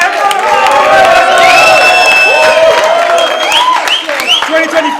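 A crowd cheers and whoops loudly, with excited shouting voices rising over the noise for several seconds.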